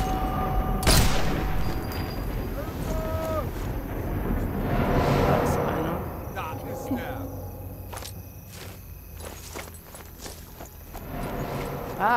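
Bursts of gunfire and distant booms crackle through a noisy Sniper Elite 4 game soundscape, with a voice speaking over the action.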